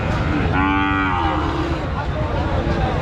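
A cow lets out one long, loud moo over the constant murmur of a busy crowd at a Qurbani livestock market.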